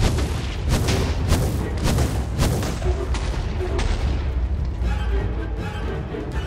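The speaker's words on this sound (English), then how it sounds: "It's just shooting like mad." A Black Ghast in a video game fires a rapid volley of booming fireball blasts, several sharp explosive bursts in quick succession that thin out toward the end over a constant rumbling background.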